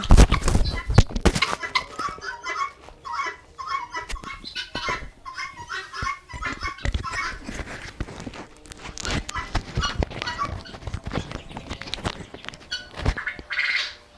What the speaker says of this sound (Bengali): এই যে আমি একটা মুরগি ধরছি সাধারণত এটা মেয়ে পাখি মেয়ে মুরগি